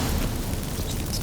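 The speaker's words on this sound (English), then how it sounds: "Get ready for some magic fireworks." Magic fireworks in the video game The Witcher 3 burst into a dense, loud rumble of crackling explosions, heard alone with no speech over it.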